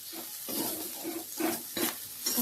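Ground onion-tomato paste with salt sautés in a pan, a soft sizzle punctuated by repeated scraping stirs at an uneven rhythm, close and fairly quiet with no talking.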